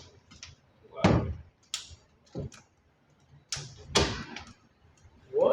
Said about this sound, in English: Let's see if this door is going to lock.